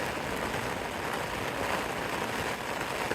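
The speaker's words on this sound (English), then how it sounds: "That is the wind and rain outside there." Wind and rain buffet a tent during a storm on a Hadrian's Wall hike, a constant broad roar of gusts and pattering rain heard from inside, steady and unbroken with no voices.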